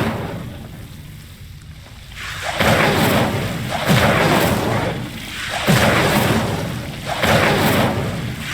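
Repeated Incendio fire spells go off in Hogwarts Legacy, each a loud whooshing burst of flame roughly every one and a half to two seconds over a steady windy background.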